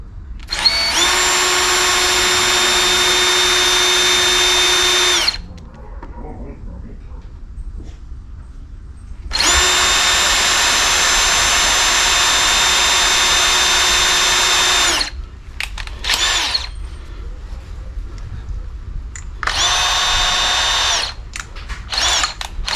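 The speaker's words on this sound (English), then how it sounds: "Let me just drill" Power drill boring into the radiator support of a Nissan Hardbody truck being stripped for a custom lowrider paint job, three loud sustained high-pitched runs with quieter shop noise between them.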